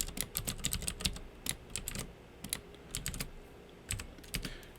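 Keys clatter on a computer keyboard as JavaScript code is typed, quick irregular bursts of close, crisp keystrokes with brief pauses between runs and no voices.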